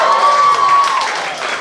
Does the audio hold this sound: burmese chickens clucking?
no